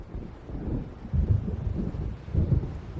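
Low rumbling thunder from an approaching storm over a lake in Alan Wake Remastered, rolling in repeated swells beneath gusting wind and faint rain, with no voices.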